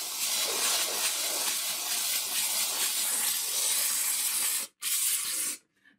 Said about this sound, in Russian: Это просто пар. Вода и пар.